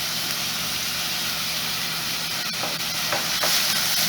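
Onion and garlic sautéing in oil in a pan over medium-low heat, giving a steady, close hiss and sizzle with a few brief stirring scrapes.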